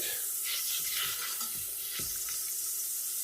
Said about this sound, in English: we're just going to let this butter melt